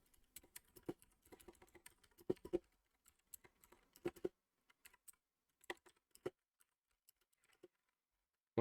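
Someone types code on a computer keyboard in bursts of quick, close, crisp key clicks with short pauses between runs and no talking.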